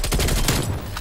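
Death Machine minigun in Call of Duty: Black Ops Cold War multiplayer, a dense continuous burst of rapid gunfire filling a brief second, loud and close.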